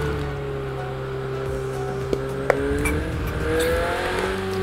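Ferrari engine in Project Cars 2 humming at a steady pitch with a slight rise in revs, with a couple of faint clicks, the drone constant and mid-level throughout.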